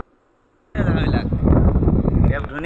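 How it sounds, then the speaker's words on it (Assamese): Strong wind buffets the microphone at a waterside film-shooting location, a loud, rough low roar that starts abruptly after a short quiet moment and continues under a person talking. "ইমান বতাহ মাৰিছে, চকু মেলিব নোৱাৰি"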